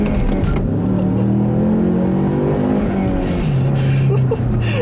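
A Ford Mustang accelerates hard, its engine note climbing steadily and then shifting down to a lower pitch as the gear changes, loud and close from inside the car, with no talking.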